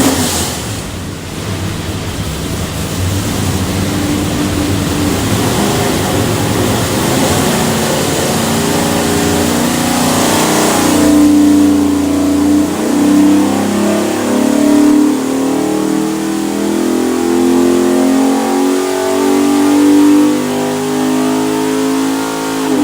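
A 427ci small block Ford V8 with a Hi-Ram intake, Moroso pan and blacked-out pulley kit, built for a Backdraft Racing Cobra, roars loud and continuous on a dyno, climbing steadily in pitch through a long pull.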